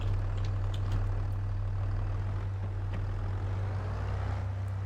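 A Case Maxxum 5150 tractor in Farming Simulator 22 idles with a steady, low engine drone, quiet and unchanging throughout with no talk over it.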